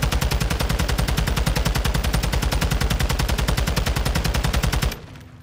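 Rapid automatic gunfire in a first-person shooter video game, a sustained sprayed burst of evenly spaced loud shots for about five seconds before stopping abruptly.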